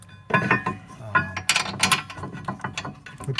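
Rear brake bracket bolts go back onto a 2019 Nissan Altima AWD, with close ratchet clicks and metallic clatter in uneven bursts. Handling noises come through as well.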